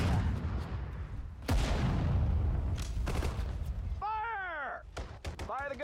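Artillery guns fire in the Sudden Strike 4 war strategy game, two heavy booms a second or so apart with rumbling decay, followed by short in-game unit voice lines.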